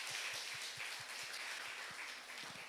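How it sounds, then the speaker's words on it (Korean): A church congregation at a Sunday worship service applauds, a soft, distant patter of clapping with a few distinct low thumps, quiet and continuous throughout. "그 분들에게 깊은 감사를 드리며 우리 그분들에게 우리 박수 한번 치시기 바랍니다."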